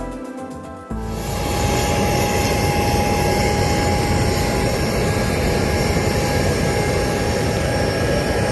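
Steady, loud broadband roar of an airliner cabin in flight on a leg from Windhoek, Namibia down to Cape Town, a continuous engine and airflow drone filling the whole stretch after a brief quieter start.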